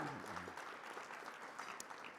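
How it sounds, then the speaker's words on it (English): Gala audience at a teacher awards ceremony claps briefly, a moderate burst of scattered hand claps with faint crowd murmur. "somebody got to raise money, so y'all can clap for that"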